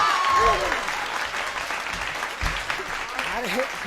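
Applause from a live Hindi poetry recitation audience, a steady wash of clapping throughout with some voices mixed in.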